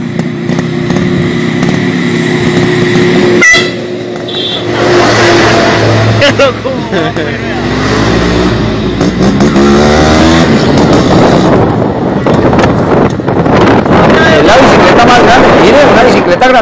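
Motorized bicycle with a small engine, shown at an event in Medellín, revs loudly and keeps buzzing throughout, with a raspy, rising and falling drone. Crowd noise and people talking sit underneath.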